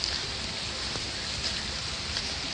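Rain falling at an outdoor hilltop viewpoint in Gajuwaka, a steady even hiss of drops with no distinct splashes, heard alone without talking.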